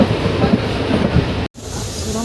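A train runs past the Neyveli coal mine, heard as a loud, close rolling rumble of wheels and carriage noise with a brief dropout partway through.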